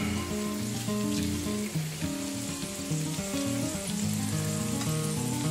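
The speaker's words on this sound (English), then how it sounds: "you just wanna make sure you have enough in here to get them good and sauteed" Kale leaves and kale flowers sautéing in olive oil and butter in a pan, giving a constant, fairly loud crackling sizzle throughout, with light music playing underneath.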